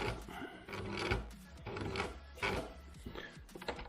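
A domestic sewing machine stitches a small flap on a double-layer fabric face mask, running in short close bursts with rhythmic mechanical chatter and brief pauses between runs, no talking.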